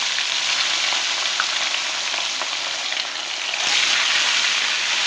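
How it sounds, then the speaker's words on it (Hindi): Fish pieces sizzle steadily in hot oil for a Lahori-style masala fish fry, a loud, dense crackling hiss that holds from start to finish with a brief dip near the middle before surging again. "तेल हमारा गरम हो चुका है। अब आराम आराम से मैं इसमें फ़िश डालूँगी।"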